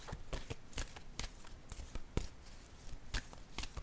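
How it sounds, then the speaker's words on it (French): Tarot cards handled and laid down on a table, a series of soft, crisp papery taps and slides at an irregular pace, close and quiet, with no voice over them. "Je vais déposer une autre carte."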